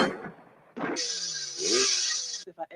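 A car engine in a movie scene revs up and drives off, a rising roar with a strained whining tone, preceded by a short burst of noise and ending in a few choppy sounds.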